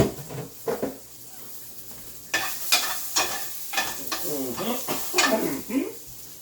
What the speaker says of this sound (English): Garlic in the pot.